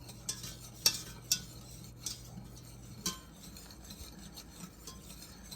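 Boiling caramel glaze for a caramel pound cake stirred in a pot, a utensil scraping and clicking against the pan in uneven strokes over a faint bubbling hiss, close and fairly quiet, no talking.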